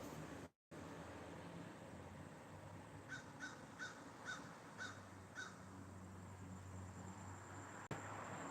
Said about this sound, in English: That bird is just there by himself, just talking, talking, talking, talking.